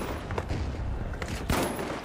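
Gunfire in The Finals shooter game: a dense, noisy stretch of shots with sharper bursts near the start and a louder cluster toward the end, steady and fairly close.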